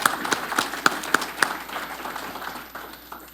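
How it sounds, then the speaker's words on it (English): An audience claps at a talk hosted by a University of Georgia speaker series, the applause moderately loud and steady with a few sharper individual claps early on, then thinning out over about three seconds. "Let's give them a round of applause"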